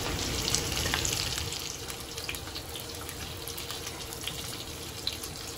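Whole dry spices and a bay leaf fry in hot oil for a Hyderabadi paneer dish, giving a steady, close crackling sizzle that stays fairly even throughout, with no voices.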